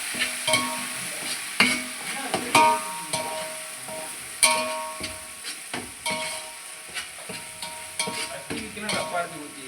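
Ginger and garlic fry in a large pot for a 3 kg beef biryani. Sizzling runs beneath repeated scraping stirs and clanks of a ladle at an uneven pace, close by, with no talk.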